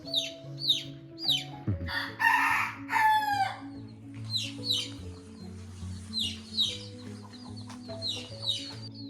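A rooster crows loudly a few times while hens cluck and chirp steadily around it, close by, with constant low background hum.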